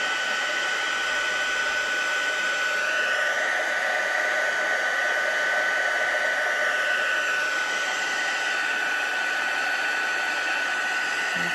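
A craft heat tool blows steadily at close range while heating puff paint on a Santa gnome Christmas card, a constant loud whirring hiss that barely changes throughout.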